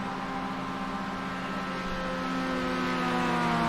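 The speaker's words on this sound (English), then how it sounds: "It is a turbo diesel." A steady turbo diesel engine of a Volkswagen Jetta TDI race car drones at a constant pitch, a low diesel rumble that swells slightly toward the end, with no voices.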